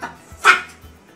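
A dog gives a single short bark, near and fairly loud, with a faint sound just before it and quiet after.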